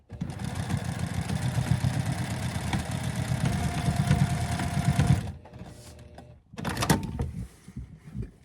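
A sewing machine stitches along the ripped-up hem and outseam of a pair of patchwork pants, running loudly and steadily for about five seconds. It stops, then gives a shorter burst of stitching near the end.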